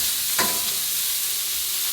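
Garlic hits a hot pan beside seared pork chops, setting off a brief louder burst of sizzle that settles into a steady hiss, close by.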